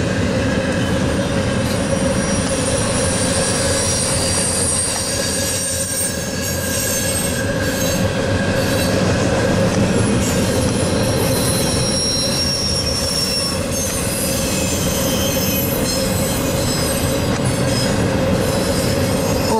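Railroad boxcars roll past steadily and close by for the whole stretch, with wheels squealing on the rails over a constant rumble.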